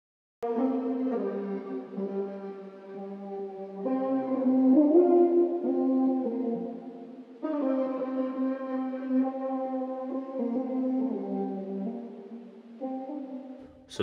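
A vocal sample, pitched down two semitones and heavily processed with effects, swells in sustained choir-like chords that shift every few seconds, smooth and continuous with no other sounds.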